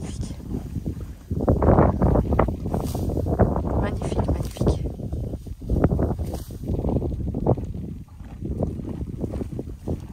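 Gusty wind blowing through a dry wheat field buffets the microphone in rough, rushing bursts, loud and close, rising and falling over several seconds.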